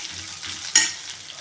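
Garlic, ginger and green chilli sauté in a pan with a soft steady sizzle, then one sharper scraping stir rises briefly before the hiss settles again, close and without voices.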